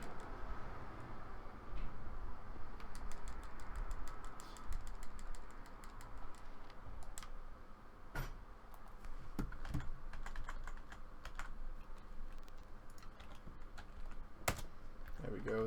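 Computer keyboard keys clack in quick bursts as hospital passcodes are entered in a Silent Hill 2 speedrun, with sparse individual taps and pauses over a quiet background hum.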